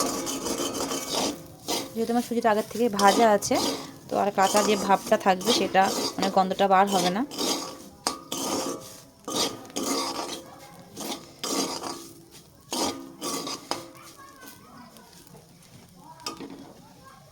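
Roasted semolina is stirred in a pan for a spicy vegetable suji dish. Scraping and clinking spoon strokes come up close, with a faint sizzle underneath, and someone talks over much of it.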